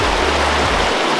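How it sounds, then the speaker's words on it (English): Fast-flowing river water rushes in a loud, steady, close roar with no pauses and no voices over it. "This water's moving pretty fast."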